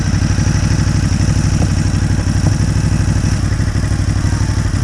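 A Ducati Hypermotard 939 motorcycle sits idling close by, its engine giving a steady, loud, low pulsing throb with a slight mechanical clatter, no voices over it.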